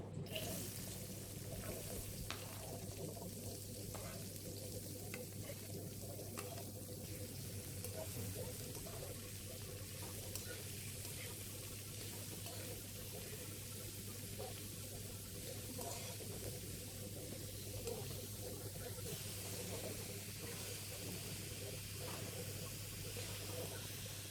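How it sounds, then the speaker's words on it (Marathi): Onion frying in a pan with curry leaves and asafoetida, a faint, steady sizzle that holds for the whole stretch under a constant low hum, with no talk. "थोडासा हिंग टाकून घेऊ पहिले कांदा परतायला टाकू"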